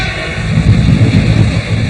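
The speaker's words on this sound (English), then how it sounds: "The train emerges from the tunnel at Langen am Arlberg" A train emerges from the Arlberg tunnel at Langen am Arlberg in Austria with a loud, close, continuous low rumble and rolling roar, a faint steady whine above it, and no voices.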